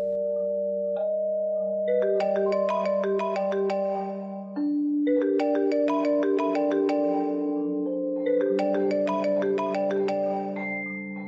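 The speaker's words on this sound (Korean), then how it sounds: "분명히 진동으로 해두었던 휴대폰 벨소리가 요란하게 울리는 겁니다" A mobile phone ringtone rings loudly with a bright, repeating melodic tune, played alone in three similar phrases over a steady low tone.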